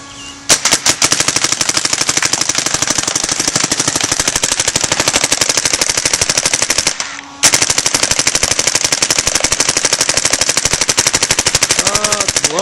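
A .50 caliber paintball gun fires in long rapid bursts, dense sharp pops in quick succession, loud and close, with one brief pause before the rapid firing resumes.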